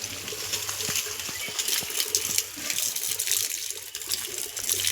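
Cold water gushes steadily from a pipe onto garden plants outdoors, a continuous splashing pour that runs throughout at moderate, close range with no talk.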